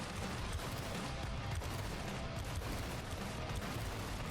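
Rapid, continuous gunfire from shooting enemies in the video game Arms of God, a dense, steady barrage of overlapping shots at moderate loudness.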